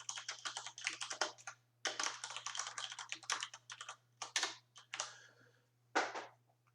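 Code is typed on a computer keyboard, close and quiet, with rapid bursts of key clicks separated by short pauses, over a faint steady hum.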